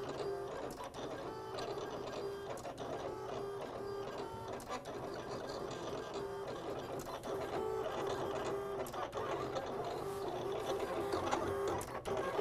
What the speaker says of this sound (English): Okay, it's cutting super good.